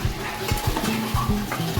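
Fried lentil dumplings (bori) are stirred in a pan: a quick, regular run of close scraping strokes and light clatter over a soft background sizzle.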